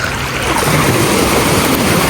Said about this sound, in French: On est à la plage de Rivière-Sens. C'est une plage sur Basse-Terre.